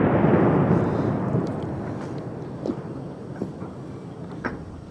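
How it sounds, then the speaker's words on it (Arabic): Heavy shelling on Al-Houla in Homs brings a loud, rumbling low blast at the start that slowly fades, followed by a few fainter thuds and knocks in the open air, with no voices. "قصف عنيف يستهدف"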